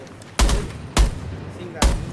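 Shotgun blasts in the game Rainbow Six Siege land three times in about two seconds, each one loud, sharp and booming. A faint commentator voice runs beneath them.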